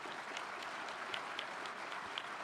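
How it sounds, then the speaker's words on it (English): An outdoor Independence Day naturalization ceremony audience at Monticello applauding the judge, a steady, fairly distant wash of many hands clapping at once with no talking over it. "give the judge a great round of applause."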